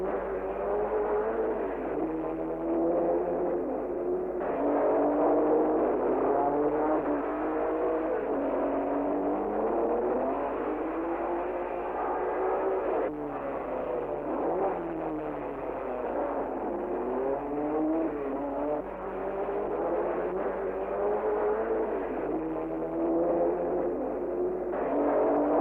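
Race cars at the Le Mans 24 Hours, Aston Martins among them, roar continuously with engine notes rising and falling as they rev and pass, at a steady, fairly loud level with no speech.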